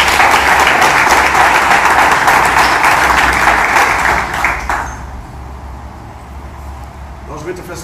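Congregation applause at a French-speaking church prophecy service, loud dense clapping filling the first five seconds before fading out, leaving quieter room sound and a faint voice at the end.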